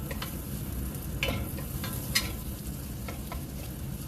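Bacon sizzles steadily as it renders in a pot for a potato casserole, a continuous close frying hiss broken by a few faint ticks and stirring clicks, with no talking.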